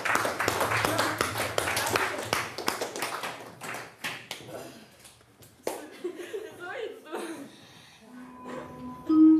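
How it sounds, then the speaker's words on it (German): Schoolchildren clapping in a classroom, a burst of scattered, uneven hand claps mixed with chatter and some laughter that thins out after a few seconds, with voices talking over it. "So, jetzt klatscht mal, das ist Stärke"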